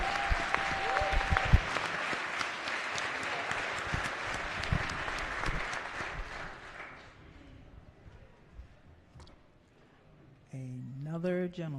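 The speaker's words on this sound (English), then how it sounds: "Let's give them all a big round of applause." Lawmakers in the House chamber applaud for visiting 4-H kids, a strong continuous round of clapping that gradually fades out, followed by a voice speaking afterward.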